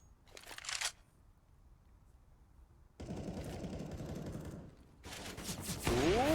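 Gunfire from a professional Counter-Strike match, with sharp bursts of shots followed by sustained rattling spray, loud and close, broken by short quieter gaps.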